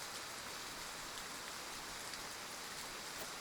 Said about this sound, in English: Rain! Honest to goodness,